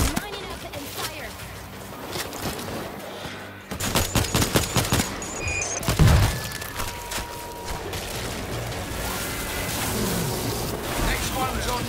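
Gunfire in the zombie shooter World War Z Aftermath: dense bursts of rapid shots and a sharp volley of cracks around the middle, mixed with game effects and music, while a voice speaks over the action.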